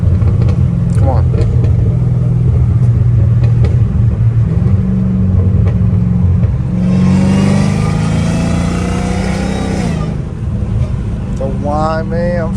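A supercharged 800 hp Dodge Challenger Hellcat Redeye rumbles loudly from the driver's seat, its deep engine drone rising into a strong rev with supercharger whine. People talk over it throughout.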